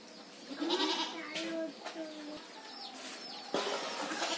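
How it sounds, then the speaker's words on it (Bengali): Several young goat kids bleat in short, thin, wavering cries from a few steps away, quiet and scattered with a few knocks and faint background noise. "এগুলা কার ছাগলের বাচ্চা?"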